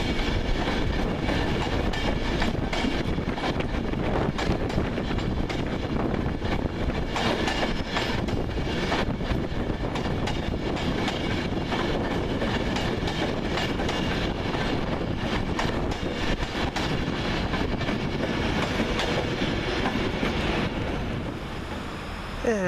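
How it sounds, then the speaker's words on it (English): Nine-coach Virgin Pendolino train arriving at Carlisle station, a continuous close rumble of passing carriages with rhythmic clicking over rail joints and wind noise, easing off near the end. "the 1249 9-coach Virgin Pendolino service from London Euston to Glasgow Central"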